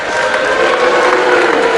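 A boxing crowd reacts to a fighter's introduction with loud, steady applause mixed with jeers, a dense wash of noise that holds throughout.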